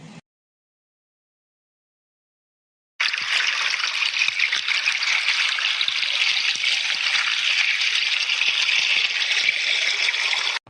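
River water flows in a steady, even rushing wash after a brief silence, continuous and close with no voices over it.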